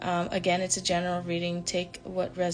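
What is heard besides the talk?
None of the usual background noises is heard.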